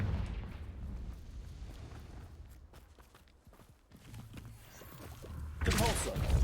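Confringo fire spell bursting in Hogwarts Legacy: a sudden loud fiery whoosh and blast near the end, after quieter scuffling combat sounds and faint voices.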